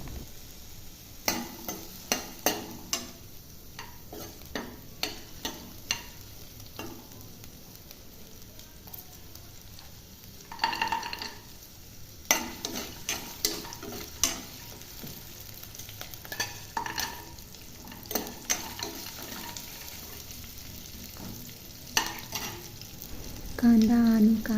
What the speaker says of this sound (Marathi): थोडेसे काजू टाकून ही परतून घेऊ